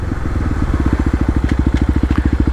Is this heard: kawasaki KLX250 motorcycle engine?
yes